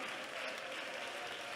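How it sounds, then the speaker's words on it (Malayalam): A church congregation at a Pentecostal prayer centre claps together in a brief, dense, even burst of applause, heard from a little distance. "മനസ്സിലാൻ മാത്രം കൈയടിച്ചാൽ മതി"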